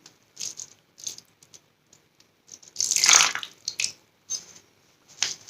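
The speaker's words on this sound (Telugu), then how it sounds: "సో చూసారు కదా రిమైనింగ్ వాటర్ కూడా దీంట్లో వేసేసాను" Water is poured into a baby's disposable diaper in short, soft splashes and trickles, with one fuller pour in the middle and small clicks and drips around it, close and fairly quiet.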